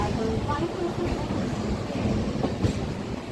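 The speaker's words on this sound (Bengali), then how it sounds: "এক্স্যাক্টলি 1:25 আমাদের ট্রেন ছেড়ে দিল শিয়ালদার 8 নম্বর প্ল্যাটফর্ম থেকে।" A Sealdah to Dankuni local train pulls away from platform 8 at Sealdah, its carriages rumbling and clattering in a steady low roar from inside, with faint wheel squeals and no clear talk.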